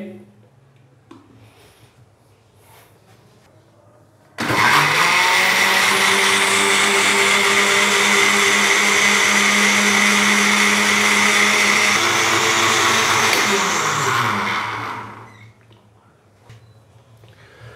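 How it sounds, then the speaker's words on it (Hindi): A blender grinding a mint lemonade roars into a loud, steady grinding whir for about ten seconds, then winds down, with quiet background sounds before and after. "अभी हम इसको अच्छे से ग्राइंड कर लेंगे तकरीबन 1 से 2 मिनट के लिए"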